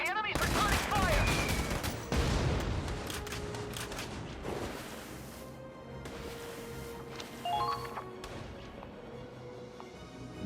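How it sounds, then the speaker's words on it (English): Gunfire in the Valkyria Chronicles 4 video game: dense bursts of rapid shots and impacts, loud at first and then thinning into scattered cracks, with a brief electronic chime near the end. "The enemy's returning fire!"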